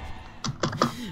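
A loud computer keyboard is struck in a few quick, sharp keystrokes during a Brawlhalla gaming session. The clicks are close and isolated, with only faint room noise between them.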